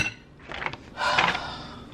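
Sour cream being mixed into honey cornbread batter in a bowl, with two short bursts of utensil scraping and clinking against the bowl, close and moderately loud.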